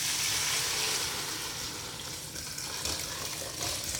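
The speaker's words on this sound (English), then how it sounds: "I'm going to be pouring the broth into here, and this strainer will strain out the bones." Hot chicken broth from a pressure cooker poured through a strainer into a bowl, bones caught in the mesh: a steady, close, full splashing gush that runs for several seconds and tapers slightly near the end.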